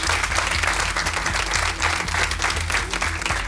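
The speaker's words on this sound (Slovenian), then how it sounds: "Aplavz" An audience applauds loudly and steadily for a few seconds, dense clapping from a crowd close by, with no speech over it.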